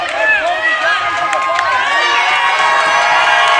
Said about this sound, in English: Crowds are going crazy